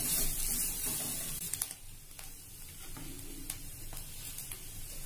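Grated coconut being dry-roasted in a pan until reddish, giving a faint, steady low sizzle with occasional light stirring clicks and scrapes, close by and without talk.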